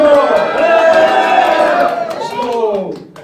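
Crowd of residents at a public hearing on an environmental impact assessment for a Guri Galmae station-area development, jeering loudly and steadily for a few seconds before the noise trails off, with voices mixed into the din.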